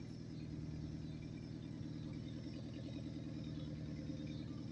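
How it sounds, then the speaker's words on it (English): A car engine idles while parked, giving a steady, close, low rumble with a faint clattering texture throughout and no talk over it. "You hear this car idling up and down."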